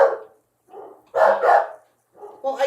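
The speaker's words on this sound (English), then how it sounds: "Isn't it my doggies barking?" Small pet dogs yip and bark in short bursts, about five sharp barks in under three seconds, heard indoors at moderate distance.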